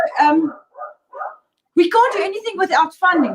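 Dogs barking in short bursts between stretches of someone talking, the yaps fairly close and mixed under the conversation.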